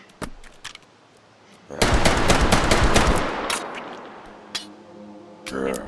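A sausage gun fired one-handed in the VR shooter game H3VR: a loud burst of rapid gunfire lasting over a second, a softer shot after it and another short crack at the end.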